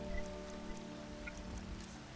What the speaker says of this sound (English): I hate it when it's raining out.